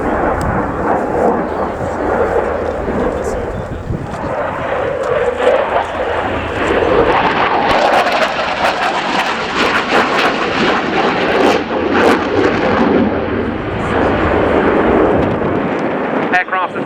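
A Polish Air Force Mikoyan MiG-29A from the 1st Tactical Squadron flies an airshow display at RIAT 2016, its loud jet roar rumbling steadily throughout with crowd and commentary noise mixed in.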